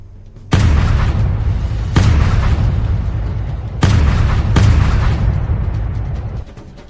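Heavy booms of cannon and catapult fire in a siege bombardment of Constantinople, four big blasts at irregular intervals, each followed by a long rumbling roar that fills the space between hits, loud and close with no voices.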